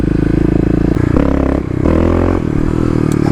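A Kawasaki KLX351 dirt bike with its secondary throttle blade removed revs hard, its engine note climbing and dropping in several sharp throttle blips, loud and close throughout.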